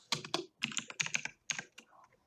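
Typing on a computer keyboard, close and crisp: several quick clusters of clacking keystrokes with brief pauses, heard alone.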